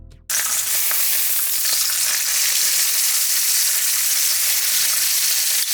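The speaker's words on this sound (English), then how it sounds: "And don't worry, I didn't leave out the beautiful sizzling sounds." Bacon sizzles and crackles steadily in a pan over medium heat, a loud, dense, continuous hiss with scattered pops that starts abruptly and carries on unbroken, with no talking.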